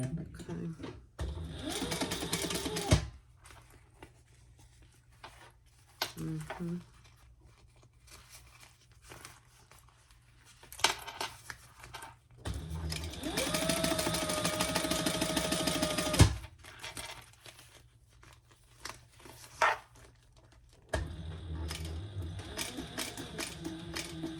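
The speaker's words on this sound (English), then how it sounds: "we're going to sew that at the seam allowance in the pattern" A sewing machine stitches zipper tape along a seam allowance in bursts, the longest a steady whirring run of a few seconds, separated by quiet pauses filled with handling noise and a voice talking.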